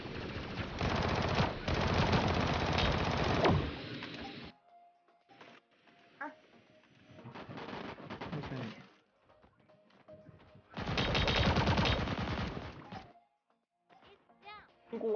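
Bursts of automatic gunfire from a Sausage Man squad battle, loud dense volleys in several separate stretches, with quieter gaps and scattered softer shots between them.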